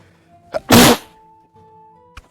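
A single sharp, loud sneeze bursts out close by in a quiet room, preceded by a short intake of breath, with a faint hum lingering afterward.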